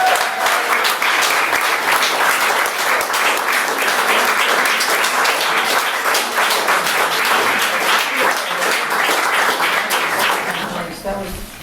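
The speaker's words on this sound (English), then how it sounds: "Can we hear another round of applause?" Sustained applause from a book launch audience, a thick wash of many hands clapping at an even, loud level for over ten seconds before thinning out, with scattered voices underneath.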